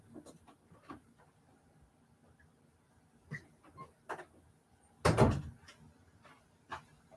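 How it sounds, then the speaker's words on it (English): Indoor door opening in a quiet room: a single loud burst of rattling and thumping mid-clip, with scattered softer knocks and clicks before and after. "Sorry, I thought the door opened."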